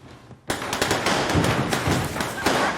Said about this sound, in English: a trash can, which suddenly explodes due to a firecracker planted by some local teenagers